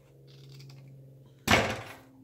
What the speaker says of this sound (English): So we need to trim a little bit off of here as well.